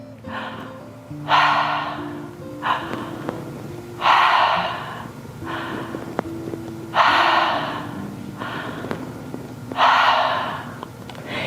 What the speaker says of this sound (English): the belly breathing would look something like this